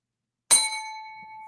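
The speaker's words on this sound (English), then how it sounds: "make sure you trigger that bell." A notification bell sound effect rings out once: a single bright metallic strike followed by a clear, sustained ring that slowly fades, heard alone against silence.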